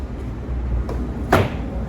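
A plastic clip pops loose as a door trim panel is pulled off a 5th-generation Toyota 4Runner's rear door: one sharp, close snap after a couple of faint earlier clicks.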